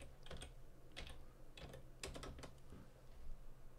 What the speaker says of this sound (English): so I'll type that in